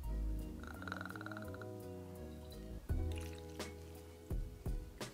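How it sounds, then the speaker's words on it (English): Orange curaçao poured into a cocktail shaker for a port cobbler, faint liquid gurgles and trickling with a few soft clinks and knocks, quiet and close with no talking. "we're gonna pour 3/4 of an ounce of orange curacao into the shaker"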